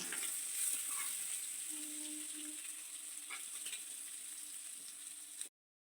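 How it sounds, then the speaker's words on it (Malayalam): Prawns fry in a pan for a Kerala-style prawn roast, giving a steady, close crackling sizzle that runs evenly before stopping abruptly near the end. "ഇനി ബാക്കിയുള്ള ചെമ്മീൻ കൂടി ഫ്രൈ ചെയ്തതിന് ശേഷം പാത്രത്തിലേക്ക് മാറ്റാം"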